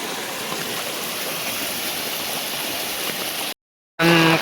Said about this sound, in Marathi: का बघा किती पाणी इकडनं जातोय.